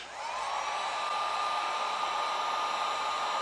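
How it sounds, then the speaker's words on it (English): Heat gun blowing on thin PCV hose tubing during a Ford EcoBoost catch can install, a steady close whooshing blower with a high whine that ramps up briefly at the start and then holds constant. "Let's use our heat gun. Keep moving around."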